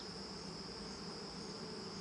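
Honeybees buzzing around a queen on a hive frame, a dense, continuous close drone with a steady high whine, unbroken and even in loudness.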